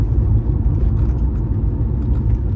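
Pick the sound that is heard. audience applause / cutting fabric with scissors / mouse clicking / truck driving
truck driving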